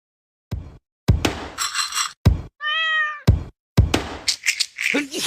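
A pet cat lets out a single clear, close meow between scattered thumps and clinks of household handling noise.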